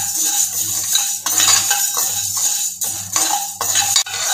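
Coriander seeds dry-roasting in a pan over a medium flame, stirred with a utensil in a busy, loud rattle of seeds and metal scraping, with a low hum underneath.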